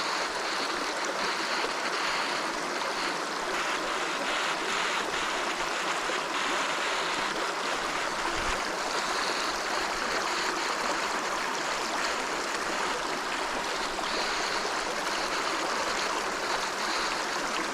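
A creek by a burned-out forest at night runs as a steady, fairly loud babble of flowing water, continuous throughout with no voices.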